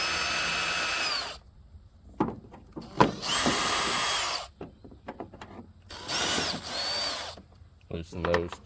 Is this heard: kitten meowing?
no